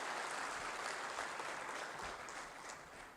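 Participants at a CEMS training program applaud a guest with steady, dense clapping across a room, fairly faint and gradually tapering off toward the end.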